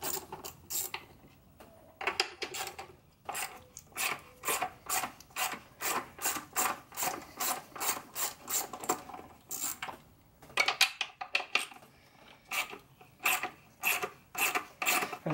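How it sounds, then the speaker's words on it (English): A ratchet repeatedly clicks and rasps while bolts are removed from a Chrysler 300 V6 engine during spark plug replacement, a steady run of close, rhythmic bursts with brief pauses between turns. "A total of 7 of these bolts you see me taking out right now."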